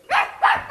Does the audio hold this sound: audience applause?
no